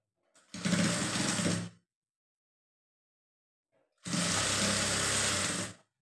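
Sewing machine stitching a blouse, two steady whirring runs of about a second and a half each, separated by a silent pause, close and clear with no talking.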